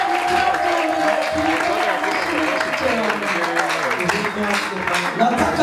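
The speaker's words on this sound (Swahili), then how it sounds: "tuchapie ule Mungu makofi sana" A church congregation claps loudly and steadily for several seconds during a bilingual Swahili and Kinyarwanda sermon, with a voice speaking over the applause.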